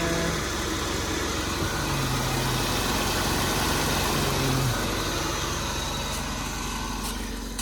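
A 2001 Buick LeSabre engine idles steadily just after startup, a continuous low rumble heard close up with a faint higher whine on top and no voices.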